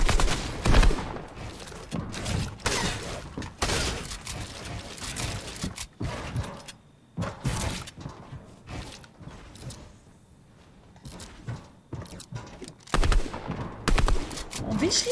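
Gunfire in a Fortnite match: repeated bursts of shots crackle in uneven clusters, some close and loud, others thinner and farther off, with a short lull in the middle.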